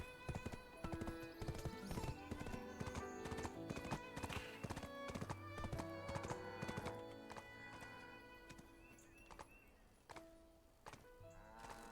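Rhythmic clip-clop of a horse's hooves in the video game Black Desert Online, beating steadily and close, with a horse whinny and a few thunks mixed in; the pace eases near the end.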